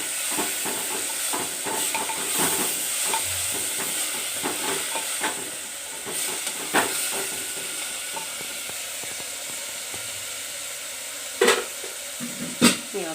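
Chickpea curry with vegetables cooking in a clay pot gives a steady hiss and sizzle, broken by occasional scraping stirs and a few sharp knocks near the end.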